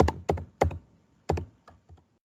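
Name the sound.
typing on a computer keyboard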